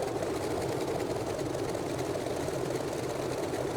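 Grumman F3F radial engine in Microsoft Flight Simulator, a steady, even drone at reduced throttle that holds constant and moderately loud throughout.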